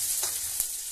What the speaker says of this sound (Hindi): जीरा डालने के तुरंत बाद हम इसके अंदर लहसुन डाल देंगे और अदरक